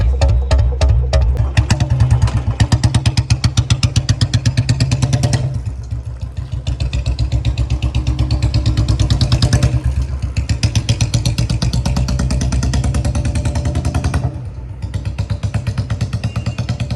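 A Royal Enfield Bullet engine runs at a set RPM close by, a loud, rapid, steady thumping with slight dips in pace and no voices.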